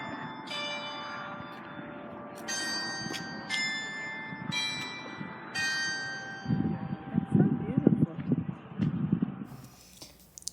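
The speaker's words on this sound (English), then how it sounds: "Oh, the bells are ringing." Chapel steeple bells ring out in bursts of bright, sustained tones with long ringing decay, fairly clear at first, then wind noise and a voice take over toward the end.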